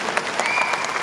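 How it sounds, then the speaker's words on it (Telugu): Steady applause from an audience at a film launch event, dense and continuous clapping filling the hall at close range with no talk over it. "మనం క్లాప్స్ కొట్టేటప్పుడు ఎనర్జీ సేవ్ చేసుకోకూడదు"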